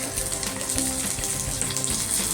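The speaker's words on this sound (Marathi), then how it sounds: "तर आता त्याच भांड्यामध्ये तो परतून घ्यायचा, असा तो पण छोटासाच, एका किंचितभर तेलावर." Garlic sautés in a pan over a slow flame with only a little oil, giving a steady, close sizzle and crackle that runs unbroken throughout.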